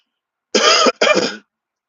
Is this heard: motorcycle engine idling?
no